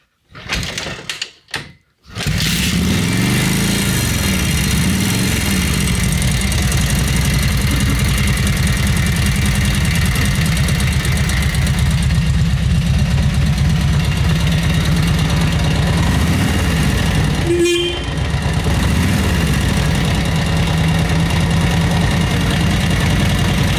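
A motorcycle engine starts after a few sputters, then idles steadily and loudly up close with a continuous low throb.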